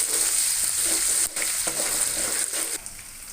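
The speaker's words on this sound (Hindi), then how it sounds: "अदरक लहसुन का पेस्ट डाल दिया मैंने।" Ginger garlic paste frying in plenty of cooking oil for a mutton karahi, a steady loud sizzle with occasional stirring scrapes and crackles, no talk.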